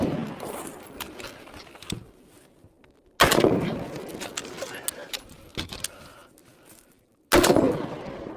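A sniper rifle fires two loud, sharp reports several seconds apart, each a sudden burst that fades quickly, with a voice talking and scattered small clicks and rattles in between.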